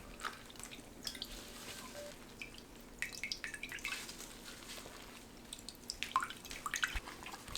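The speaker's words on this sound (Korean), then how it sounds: "망에 넣고 물 짭니다." Water drips and trickles from salted cucumbers squeezed in a mesh strainer, faint irregular drops and splashes in a quiet kitchen.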